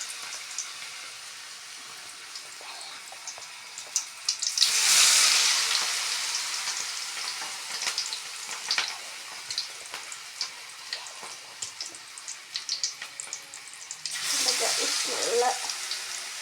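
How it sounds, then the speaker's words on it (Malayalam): Chili bajji fritters fry in hot oil with a soft crackling sizzle, swelling into two louder hissing bursts as batter meets the oil, otherwise a quiet patter of pops. "നല്ല വെട്ടി തിളയ്ക്കുന്ന മുളക് ബജ്ജി നമുക്ക് കാണാം."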